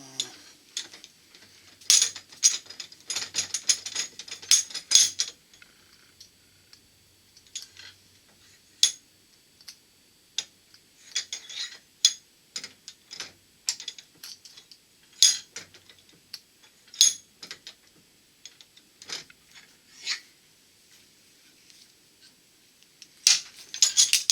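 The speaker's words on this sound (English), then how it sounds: "what we're going to do is just press the heck out of it in the vise to flatten the end of it" A metal shaft end squeezed flat in a bench vise during a Studebaker fuel system refurbishment, heard as sparse sharp metallic ticks and clicks scattered across quiet stretches, close by with no talking.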